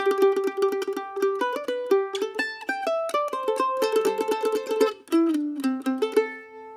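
A mandolin picks a quick, bright lick of ringing single notes in a lively rhythm, played close and alone.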